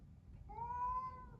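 A cat in a garden lets out one clear, drawn-out meow, fairly quiet and close, over a low background rumble.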